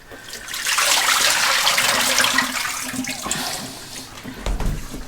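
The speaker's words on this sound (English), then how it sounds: "I'm going to pour the water out." Water pours out of a Berkey water filter in a steady, close splashing stream for several seconds, then trickles and slows to a few final sloshes.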